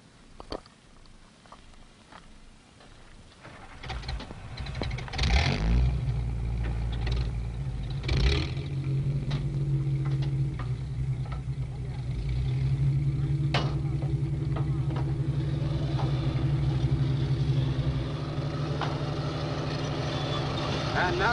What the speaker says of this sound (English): The other personnel carriers move out.